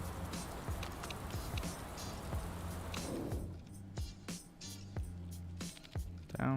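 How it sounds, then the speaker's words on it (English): Rain falls in the Motorsport Manager racing game during a race in Beijing, a steady broadband patter that fills the first half over a low hum from the game, then thins to scattered drops and ticks. "Ooh, raining."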